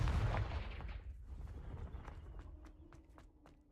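A Confringo fire spell cast in Hogwarts Legacy, a heavy booming burst that quickly fades into a low rumble, followed by faint scattered ticks and light footfalls.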